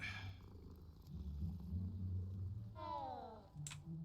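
A cat purrs while being petted: a close, low, continuous rumbling purr that swells and fades, with a few brief higher rustles near the end.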